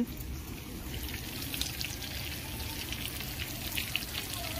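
Steady, even sizzle of food frying in a pan during home cooking for a Bengali puja feast, with vegetables and fish being fried, close and continuous with no talk over it.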